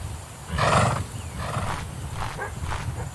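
A horse in the Daggerfall Unity game, giving a few snorting, whinnying bursts over a steady ambient bed, moderately close and without talk.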